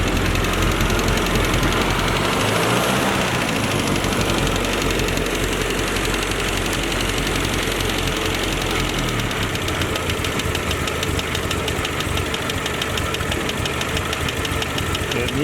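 A carbureted engine in need of choke runs rough near the White Nile in Uganda, a continuous uneven knocking idle that stays loud and close for the whole stretch with no clear speech.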